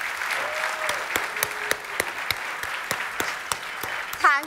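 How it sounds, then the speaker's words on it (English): An audience applauds the KubeCon co-chair at a closing keynote, a steady, moderately loud wash of clapping with a few sharper individual claps standing out, lasting throughout. "I want to give her a well-deserved round of applause for her invaluable contributions to this event."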